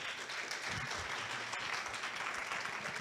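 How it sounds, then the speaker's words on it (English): An audience at the Standard Bank Joy of Jazz Conga Stage, at a Jazz for Young People event, gives a round of applause, a soft, even wash of distant clapping that holds steady throughout. "Can we give that a round of applause?"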